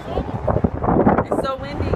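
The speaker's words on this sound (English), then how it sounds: "The wind is ridiculous." Strong gusty wind roars and buffets the microphone on a bridge near Hoover Dam over the Colorado River, loud and close, with a voice talking underneath the blustery rush.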